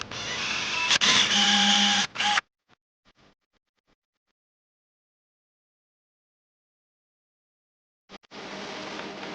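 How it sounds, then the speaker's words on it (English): Power drill boring holes into a wooden speargun stock for the reel foot, two loud whirring bursts of a couple of seconds each separated by silence, close by. "So the next holes that I'm going to be drilling are the holes for the foot of the reel."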